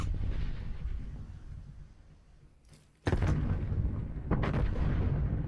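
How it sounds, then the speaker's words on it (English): Artillery strikes in a video game land as deep booming explosions: a rumbling roar fades to near quiet, then a sudden heavy blast hits, followed by a second loud impact, with no talk. "Artillery inbound."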